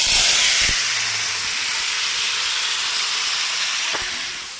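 Tomatoes drop into hot oil seasoned with five-spice for a tamarind-tomato pickle, giving a steady bright sizzle that hisses on evenly throughout with a couple of faint clicks and no talking.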